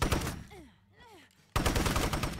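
Gunfire in State of Decay 2 during human-versus-human combat: dense, loud bursts of shots at the start, a brief quieter gap with a falling whine, then heavy rapid firing resumes abruptly and continues to the end.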